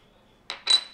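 Two quick metallic clinks of a spoon tapping a cup as milk is added to Vietnamese phin-filtered coffee, short and close, the second slightly louder than the first.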